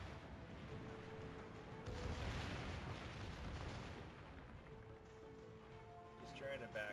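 Heavy naval gunfire pounds a disabled ship with a broken rudder in World of Warships, a dense rumbling barrage of booms building around the middle of the clip over a steady engine-like drone.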